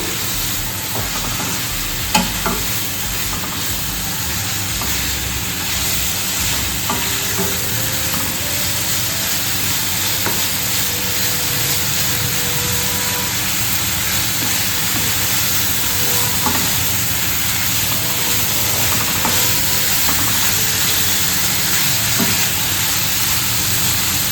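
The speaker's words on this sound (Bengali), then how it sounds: "হালকা কষিয়ে নেবো আলু ফুলকপি" Cauliflower and potato pieces sauté in hot oil in a pan for a Bengali rohu fish curry, giving a steady, close sizzle with occasional stirring scrapes and clinks throughout, no talking.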